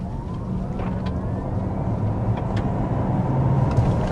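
A 2026 Cadillac LYRIQ-V electric SUV accelerates hard, heard from inside as a steady low road roar with a faint rising electric motor whine.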